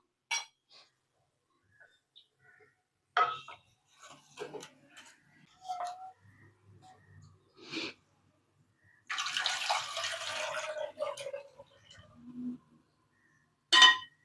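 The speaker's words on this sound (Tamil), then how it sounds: "அந்த கடாயிலே தண்ணியை ஊற்றி நம்ம எடுத்தோம்னா க்ளீன் ஆயிருங்க" Water is poured into a kadai used to cook jaggery syrup, in order to clean it. After scattered light clinks and handling sounds, a steady splashing pour lasts about three seconds.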